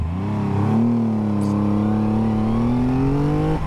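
A 2024 Triumph Rocket 3 Storm motorcycle launches hard toward 60 mph, its engine note climbing in a strong, continuous rising growl, close and loud with no talk.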